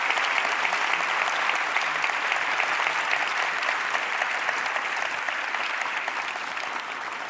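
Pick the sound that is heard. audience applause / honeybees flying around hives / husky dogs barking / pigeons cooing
audience applause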